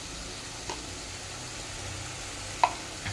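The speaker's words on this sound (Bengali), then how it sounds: "দিয়ে ভালো করে কষবো যতক্ষণ না তেল ছাড়ছে" Spices fry softly in oil in a pan with a faint, steady sizzle, broken by a few brief scrapes and knocks of stirring, close by with no voices.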